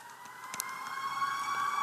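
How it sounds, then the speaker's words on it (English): A siren wails steadily in the distance, a sustained tone under faint background noise with a few light clicks. "I don't know if you all could hear the sirens."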